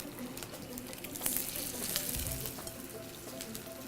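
Quinoa burgers fry in a pan with a steady, fairly loud sizzle and crackle, near and continuous, with a few brief clatters and no talk over it.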